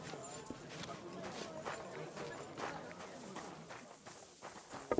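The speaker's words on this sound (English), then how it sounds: "Easy, good horse." Horse hooves clip-clopping at a walk in Kingdom Come: Deliverance II, a steady, soft, fairly faint rhythm of hoof strikes under ambient outdoor sound and spoken dialogue.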